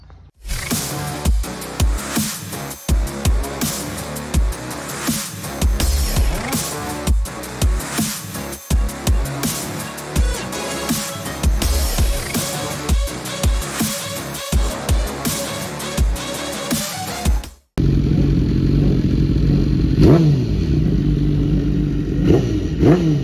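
A motorcycle fitted with a quick shifter runs a track session, its engine revving hard and loud through rapid, clipped upshifts with brief cuts between gears, then settling into a steady, droning mid-pitched roar under heavy wind buffeting.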